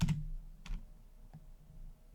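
A few keystrokes on a computer keyboard while entering a spreadsheet formula: soft, sparse clicks spaced apart, faint and close over a low hum.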